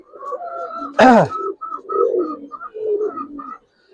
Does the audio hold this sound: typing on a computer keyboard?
no